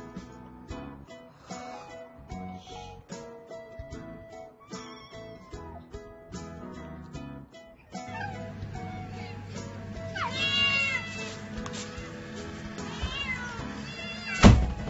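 Hungry street cats waiting for food meow repeatedly, several overlapping high cries near and far, over steady background clatter, growing busier and louder toward the end.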